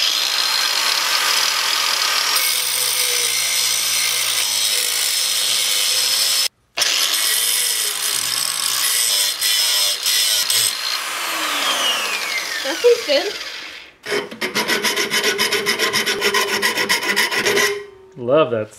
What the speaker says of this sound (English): We'll just go grind that out.